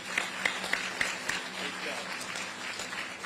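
An audience applauds Fran O'Connor at a ferry terminal groundbreaking in Carteret, a few sharp claps at first then a steady moderate patter, with a voice speaking over it.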